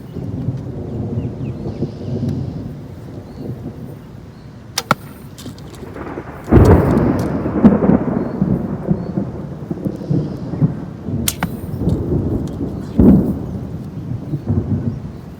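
Steady outdoor rain hisses continuously around an archery range, joined by a few sharp, sudden cracks and impacts from arrows being loosed.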